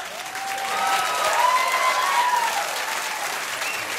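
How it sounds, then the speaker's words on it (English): A crowd on a seawall applauding, steady clapping swelling in the middle and holding through the few seconds, with faint whistles or cheers above it. "They're applauding."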